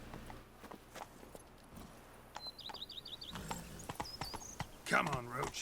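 Roach, the horse in The Witcher 3: Blood and Wine, walks with soft, steady clip-clopping hooves under quiet ambience and brief bird chirps, and someone speaks near the end.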